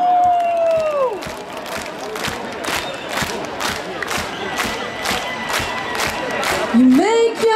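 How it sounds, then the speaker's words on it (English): A concert crowd at a show claps along in a steady, regular beat, with loud cheering and whoops around the rhythmic clapping and a singer's voice briefly heard. "put your hands up in the air"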